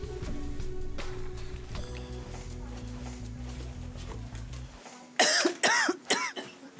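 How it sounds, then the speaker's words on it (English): A low engine hum runs for several seconds, then cuts out, followed by a cluster of three or four harsh, close coughs. "she has quite a nasty cough"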